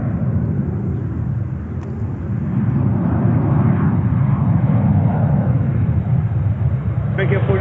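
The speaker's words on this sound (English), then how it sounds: "this looks like Virgin Atlantic 350-1000 from London Heathrow" A Virgin Atlantic Airbus A350-1000 from London Heathrow at New York JFK makes a loud, sustained jet roar that builds slightly and holds steady throughout.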